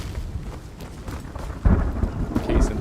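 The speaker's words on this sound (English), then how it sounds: "The lightning is very loud in this game." Thunder from lightning in the game Road to Vostok, a sudden loud crack and rumble with a low boom midway, then a second rolling burst, over steady rain-like background noise.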